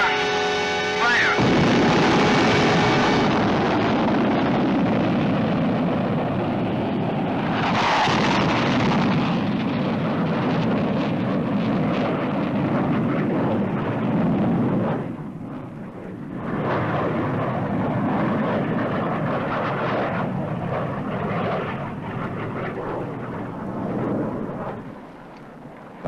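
A booster rocket blasts a jet aircraft off a zero-length launcher in a 1950s TV series, with a long roaring rush that surges and fades in several waves.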